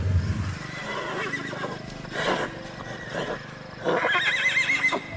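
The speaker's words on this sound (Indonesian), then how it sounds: "ada suara rintihan kuda" A horse whinnies and neighs repeatedly in a loud, wavering series of calls, with a faint clip-clop underneath.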